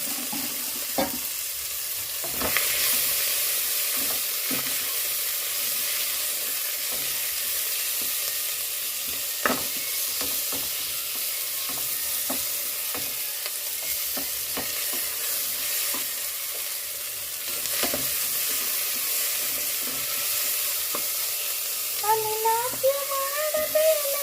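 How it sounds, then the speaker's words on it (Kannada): Mutton browning in a pan with coriander and mint, a steady close sizzle with intermittent stirring scrapes and clinks, and a brief whistle-like tone near the end. "ಚೆನ್ನಾಗಿ ಬಾಡಿಸ್ಕೊಳ್ಳೋಣ."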